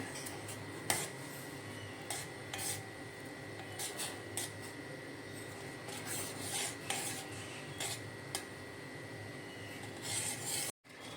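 A spoon scrapes and rubs steadily against a pan while jaggery is stirred into hot tea, a soft continuous rasping with light ticks, close and fairly quiet.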